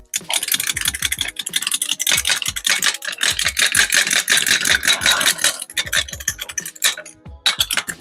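Refitting a road wheel on a Peugeot 106 after a front brake change: a close, busy run of metallic rattles, clicks and clanks as the wheel and bolts are handled, steady for several seconds with brief pauses.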